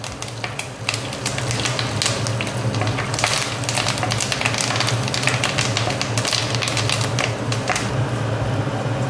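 Onions and curry leaves fry in hot oil in a pan for a Kerala ginger curry, with a steady, close, dense sizzle and crackle and frequent quick scraping taps from stirring throughout.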